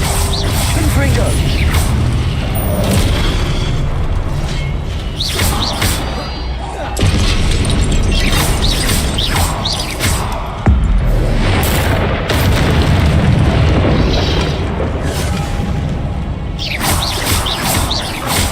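Confringo fire spells blasting in Hogwarts Legacy, loud repeated explosions and crackling bursts amid busy combat effects, with voices casting between hits.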